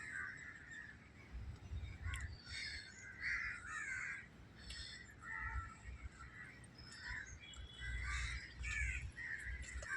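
Repeated crow caws from crows bathing in a garden, moderately close, over a soft background hiss of light rain, several birds calling in irregular bursts.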